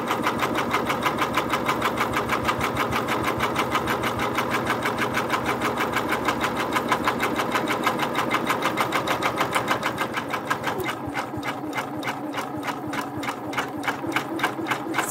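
A Janome MB4 embroidery machine runs steadily while stitching a double zigzag underlay for quilt-in-the-hoop appliqué, a dense, even mechanical chatter that carries on without a break and thins slightly in tone near the end.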